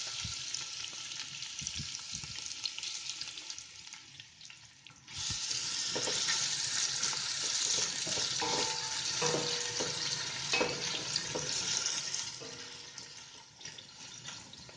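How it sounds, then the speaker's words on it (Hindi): Onions hit hot ghee with a cinnamon piece in a pan, and the sizzle jumps suddenly louder midway, then stays strong with stirring scrapes until it eases near the end. "अब साथ ही दालचीनी का टुकड़ा और घी गर्म होने पर इसमें प्याज डाल देना है।"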